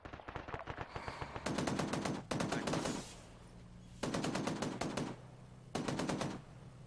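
Bursts of rapid automatic gunfire in a military shooter game, four sustained volleys with short gaps, loud and close over a low background hum.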